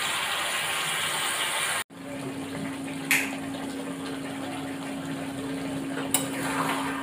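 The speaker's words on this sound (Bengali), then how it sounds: "তরকারিটা নুন হলুদ দিয়ে ঢাকা দেওয়ার পর আমার খুব সুন্দরভাবে ফুটতে লেগেছে" Pumpkin curry with salt and turmeric simmers in a covered pot, giving a steady bubbling hiss. The sound breaks off briefly near the start and is marked by a couple of light knocks, with no voices.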